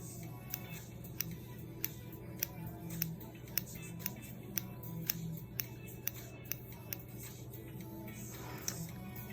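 Scissors trimming hair bangs make sharp, close snips at a steady, unhurried pace, each a crisp little click against a low background hum, with no speech.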